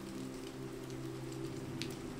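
Steady rain on a quiet night falls in an even, continuous patter, soft and unbroken with a low background hum and no voices.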